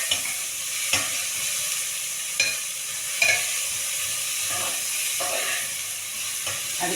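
Onion, mint and spice ingredients sauté in a hot pan, a steady sizzling hiss broken by occasional stirring scrapes and clinks, close and fairly quiet with no talk.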